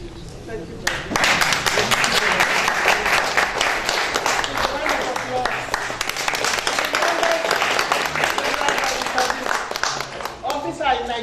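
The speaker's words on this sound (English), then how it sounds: "So let's give her a round of applause." An audience applauds at an award and certificate presentation ceremony in Nigeria, with loud sustained clapping starting about a second in and continuing throughout, mixed with crowd voices.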